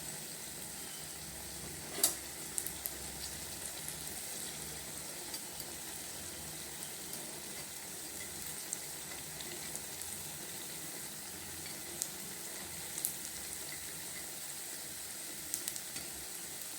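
Food sizzles and fries in oil in a nonstick pan, a steady crackling hiss throughout with a few sharper pops and stirring clicks, no talking.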